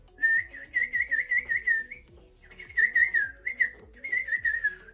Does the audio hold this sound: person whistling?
yes